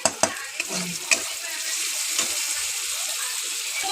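Garlic paste and chopped tomato fry in oil in a pan while sea crabs are cooked, making a steady, close hiss of frying that starts with a few sharp stirring clicks, with no voices.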